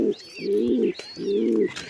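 Close pigeon cooing comes in three rolling, throaty bursts with brief pauses between them, steady and clear, with faint higher chirps behind and no talking.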